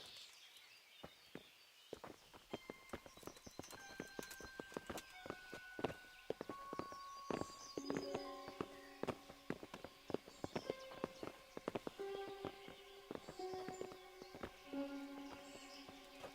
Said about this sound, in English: Bring the horses.